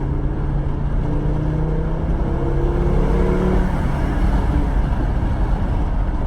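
A 1997 Volvo 850 engine revving hard while accelerating in first gear, a loud continuous drone with rising engine tones heard from inside the car, steady throughout with no talking.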